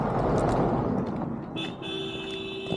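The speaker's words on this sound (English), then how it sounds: "You'll hear the occasional car honk, not out of impatience, but actually as a friendly safety gesture to alert walkers and other drivers" A car horn gives a short tonal honk, then a longer sustained blast, over steady road rumble on a snowy, icy mountain road to Gulmarg in Kashmir, India.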